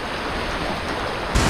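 Sudden heavy monsoon rain in Konkan, a loud, steady hiss of downpour with no pauses, swelling slightly louder at the very end.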